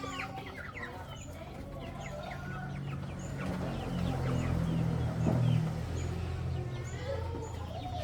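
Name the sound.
flock of chickens clucking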